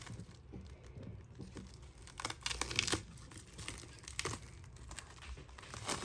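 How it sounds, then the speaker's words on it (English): Plastic wrap is peeled off a bowl of risen puff-puff dough, giving soft crinkles and crackles in irregular bursts, fairly close but quiet. "So it's time to take out all this plastic we used to"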